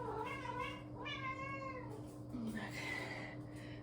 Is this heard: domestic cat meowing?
yes